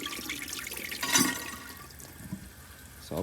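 A 1980 Eljer Emblem toilet flushes with a brief surge of rushing water, then settles into a quieter gurgling siphon as the bowl drains, heard up close without talk.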